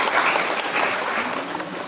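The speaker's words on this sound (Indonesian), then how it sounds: "Kasih tepuk tangan" Audience applause breaks out at a school foundation chairman's speech, a dense steady wash of clapping from a crowd filling the room, fairly loud and sustained without any voices over it.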